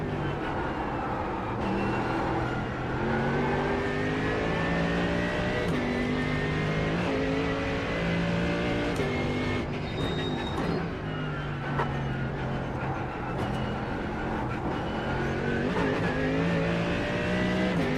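GT3 race cars, a Ferrari and a Mercedes, roar around the combined Nürburgring circuit in the iRacing sim, loud engines revving and shifting continuously with rising and falling pitch sweeps for the whole stretch, no talk over them.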